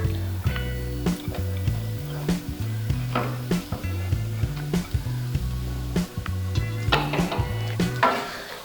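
A utensil scrapes and taps against a pan while egg fried rice is stirred over heat, with a steady rhythm of repeated strokes and a faint sizzle, close and clear.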